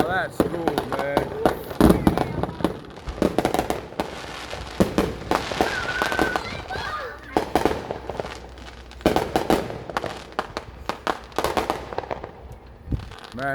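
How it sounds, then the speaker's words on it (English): Legal consumer fireworks set off on the eve of the Fourth of July, loud close bangs and crackling bursts in irregular volleys, with people talking and reacting between blasts. "Man, that's some legal fireworks."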